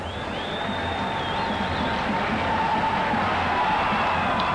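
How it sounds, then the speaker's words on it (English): A cricket crowd at the 1993 India vs Sri Lanka one-day international in Colombo gives a steady, distant roar of cheering, a dense continuous wash of voices with no single clear shout standing out. "And the crowd absolutely elated"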